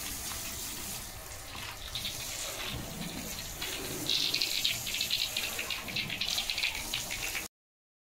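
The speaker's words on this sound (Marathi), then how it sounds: "शॅम्पूच्या पाण्याने धुवून झाल्यानंतर दादा क्लीन पाण्याने धुतोय" Water splashing steadily over a car during a clean-water rinse after shampooing, a continuous hissing spray that grows a little louder midway and runs without talk.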